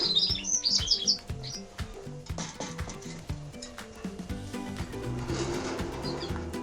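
Canaries in a bird room give bright, high chirps and trills, strongest at the start, over a steady patter of tapping and ticking sounds, with no one speaking.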